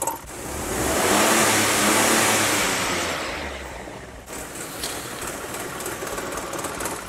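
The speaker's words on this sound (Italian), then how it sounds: "dopo essere stata scaldata col catalizzatore caldo, la macchina gira malissimo" A hot car engine idling roughly with a faulty catalytic converter, a loud close drone that swells, then eases into an uneven, slightly pulsing run.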